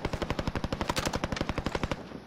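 Rapid automatic gunfire in the Call of Duty: Modern Warfare video game, a fast, even burst of about twenty closely spaced shots lasting a couple of seconds, loud and close with no talk over it.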